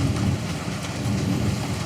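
Steady rain falls on a rainy Monday, a dense continuous hiss of drops with a low rumble beneath, even and moderately loud with no voices.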